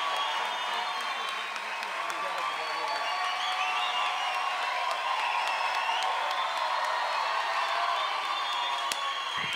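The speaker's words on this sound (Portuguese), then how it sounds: "Mais palmas pro meu irmão Rafael" An audience at a stand-up comedy show in Rio de Janeiro claps and cheers for a comedian named Rafael: a dense, steady wash of applause that holds at an even level for the whole stretch, with scattered whoops.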